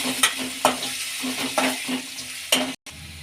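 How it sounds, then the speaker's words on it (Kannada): Ginger and garlic fry in hot oil for a soya keema filling, a close, steady sizzle broken by several sharp stirring scrapes at irregular intervals and a brief cut-out near the end. "ಎಣ್ಣೆಗೆ ಫ್ರೈ ಮಾಡ್ಕೊಳ್ಳೋಣ"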